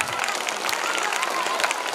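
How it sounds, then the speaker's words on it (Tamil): Parents in the audience at a school program applaud the children with dense, steady clapping that fills the hall. "ஒரு நல்ல கைதட்டு கொடுக்கலாம் அந்த குழந்தைகளுக்குலாம்."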